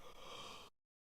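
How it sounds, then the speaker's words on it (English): One big yawn from a person during a live political chat, a single breathy exhale heard close and fairly quiet, cutting off abruptly with no talk over it. "big yawn there"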